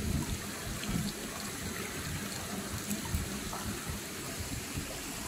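Drinking water trickles and splashes steadily at Wadi Shab in Oman, a soft, continuous flow heard close by with no talk.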